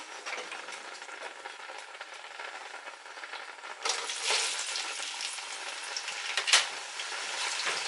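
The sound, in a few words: onion frying in stew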